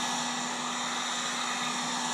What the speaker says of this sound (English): just go around with this heat gun